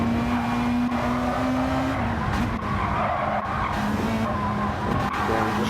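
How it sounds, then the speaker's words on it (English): In the racing game Gran Turismo 7, a race car on cold tyres slides across grass, a steady engine drone with a sustained skidding tire squeal running continuously under the gameplay. "Again, just sliding over the grass"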